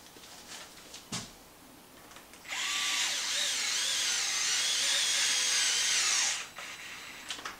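A small power driver with a 2.5 mm hex bit tightens a tie rod screw on a remote-control truck, giving one steady whirring run of about four seconds. Light clicks and handling noises come before and after it.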